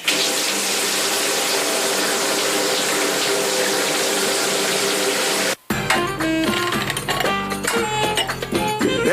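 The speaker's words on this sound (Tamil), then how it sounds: "நான் கை கழுவிட்டு வந்துடுறேன்." Tap water gushes loudly and steadily as hands are washed in a radio drama scene, a dense constant splashing that cuts off abruptly and gives way to music.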